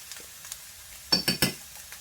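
Ground beef cooks in a pan with taco seasoning being stirred through, giving soft sizzling and three quick scraping clinks of the utensil against the pan, close and fairly quiet.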